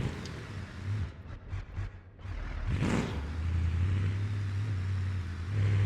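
Mud truck engine driving off-road in the BeamNG video game, a steady loud low drone with a brief surge and rev in the middle, then a sustained deep running hum.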